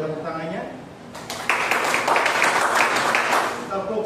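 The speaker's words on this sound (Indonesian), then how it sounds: "Boleh tepuk tangannya." Classroom applause breaks out suddenly, a dense burst of many hands clapping for a few seconds, bracketed by a voice speaking before and after.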